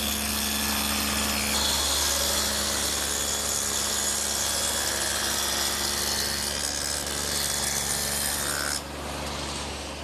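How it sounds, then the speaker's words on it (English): A table saw fitted with a dado head cutter cuts a groove in wood, a loud, sustained roar of blade and motor that holds steady for several seconds before dropping in tone near the end. "I've set up the saw with the dado head cutter again"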